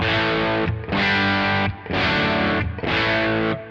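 An electric guitar played through a Kemper Profiler on a plexi amp profile rings out in loud, distorted chords, about four sustained strums separated by brief gaps, with no voice over it.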